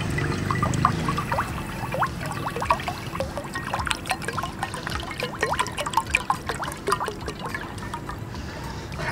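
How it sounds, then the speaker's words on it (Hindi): Water, about one litre, is poured into a glass bowl in a continuous trickling stream with bright splashing bubbles, close up, for a phone water test. "ये मैंने 1 लीटर पानी भर दिया है।"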